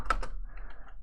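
Computer keyboard typing a command, a few quick close key clicks at the start followed by fainter scattered taps.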